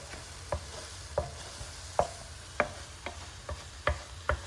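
Scrambled eggs cook in a hot electric skillet, with a low sizzle under a series of regular, distinct spatula taps and scrapes, roughly one every half second, and no voices.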